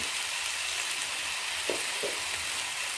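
Boiled chickpeas sizzle in frying masala for chana masala, a continuous close hiss with two soft thuds of stirring midway.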